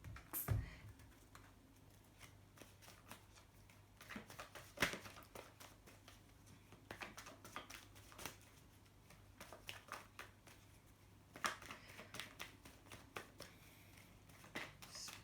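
Tarot cards being shuffled during a change of decks: a series of soft, sharp riffling and tapping bursts at irregular intervals, close and fairly quiet over a low steady hum, with no talking.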